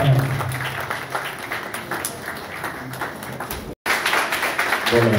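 Steady applause from guests at a civil wedding ceremony in Grand Lahou, a dense wash of clapping that continues with only a brief gap, with voices heard within it.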